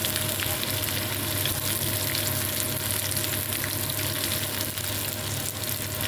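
White onion frying in a pan for a home-cooked dinner, a dense steady sizzle with faint stirring scrapes, close and continuous, with no talk over it.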